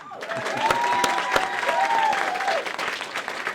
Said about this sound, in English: please, one big round of applause for the drummers